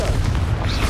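Confringo fire spell explosion in Hogwarts Legacy, a loud dense boom with crackling bursts filling the whole moment, no voice over it.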